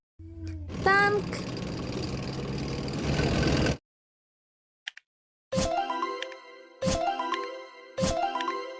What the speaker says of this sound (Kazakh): Танк.